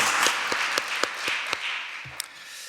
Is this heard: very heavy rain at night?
no